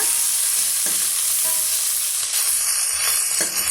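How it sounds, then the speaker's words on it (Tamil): Small onions, green chillies and curry leaves sauté in a pan for a spinach kadayal, giving a loud, close, continuous frying sizzle broken by a few scraping stirs of a spoon. "இப்போ இது நல்லா வந்து வதக்கி விட்டுடலாங்க"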